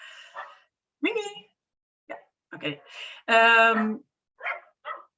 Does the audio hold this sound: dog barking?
yes